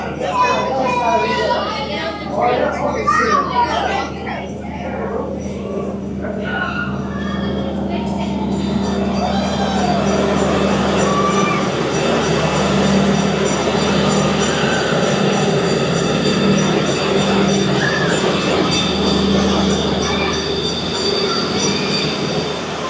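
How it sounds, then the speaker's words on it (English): A zoo train at San Antonio Zoo rolls into the station steadily with a low rumble and clattering wheels, continuous and fairly loud, with faint voices in the background. "No zoo trip can be complete without a ride on the zoo train."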